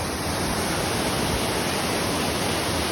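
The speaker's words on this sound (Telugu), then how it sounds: "చూడండి ఫుల్గా వస్తానైనా వాటర్." The Kaigal waterfall pours in full flow, a dense, steady roar of falling water heard close by without pause.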